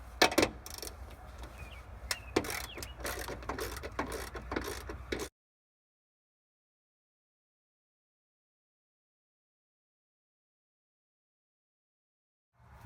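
Ratchet wrench with a 15mm deep socket loosening a bolt on a Chevrolet Silverado center console, close-up mechanical clicking and clanking for about five seconds, then silence.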